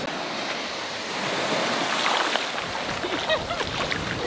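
Ocean surf at La Push beach in Olympic National Park, a steady broadband wash of breaking waves that swells louder midway, with wind buffeting the microphone and no talking.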